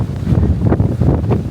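Cold wind at a ski resort rushes and buffets a microphone outdoors, a loud continuous low roar with gusty swells all the way through.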